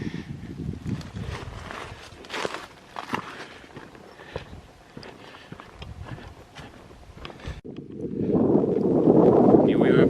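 Wind gusts across a snowy hiking trail in Mousetail Landing State Park, Tennessee, as a steady rush that swells louder near the end, mixed with scattered footsteps and crunches.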